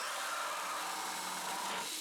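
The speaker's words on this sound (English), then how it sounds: "But let's go ahead and drill our hole." A power drill bores a hole through a plastic water filter container, giving a steady, close, high-pitched whirring grind that runs unbroken for about two seconds with no talking.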